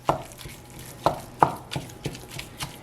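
Ground turkey cooking in olive oil in a pan, with a soft background sizzle and several distinct utensil clacks and stirring knocks against the pan at an uneven rhythm, close and moderately loud.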